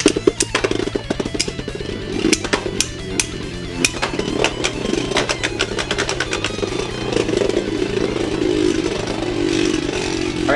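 Beyblade Burst tops, Minoboros and Odin, spin and clash in a stadium with a burst of rapid rattling knocks, then a sustained whirring spin.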